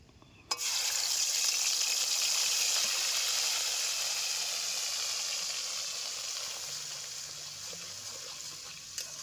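Ginger, garlic, chili and onion paste dropped into oil left from frying fish, bursting into a loud, sharp sizzle that slowly settles into a steady hiss over several seconds.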